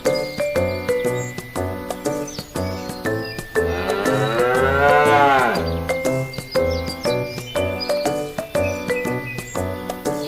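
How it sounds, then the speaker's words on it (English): A long, drawn-out cow moo from a farm-animal flashcard toy rises over a bouncy, rhythmic backing tune and swells loud mid-way before the music carries on alone. "First, we have a cow. It's a cow."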